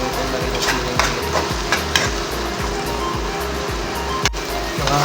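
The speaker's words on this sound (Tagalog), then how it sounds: "Para habang naluluto yung bagoong, naluluto na rin yung siling green." Shrimp paste (bagoong) frying with green chili in a pan, a continuous loud sizzle broken by repeated scraping stirs of the utensil, close up with no voices.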